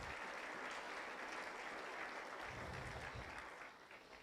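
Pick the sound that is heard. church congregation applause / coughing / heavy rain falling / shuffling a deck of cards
church congregation applause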